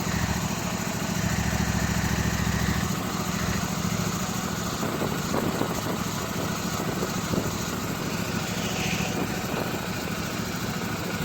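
A small engine, apparently a Toro snow blower, idles steadily after a cold start on a cold winter day, a continuous near drone with a slightly rougher patch partway through and no talking.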